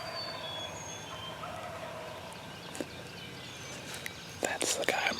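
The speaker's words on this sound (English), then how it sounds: "Twice now I've heard a bird gobble off of this point." A wild turkey gobbles from a distant roost at dawn on the day before hunting season, faint at first and then a louder burst of gobbling near the end over quiet outdoor background.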